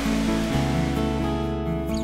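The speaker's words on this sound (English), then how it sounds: "Water flows over the falls into a cascading deep fern gorge" Agnes Falls in Victoria, the state's highest single-span waterfall, pours into a deep fern gorge with a steady, dense rushing roar that never lets up, with soft music running underneath.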